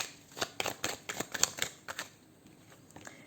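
Playing cards handled during a tarot-style card reading, with a quick series of crisp taps, flicks and snaps close to the microphone, clustered over a couple of seconds and then fading to quiet.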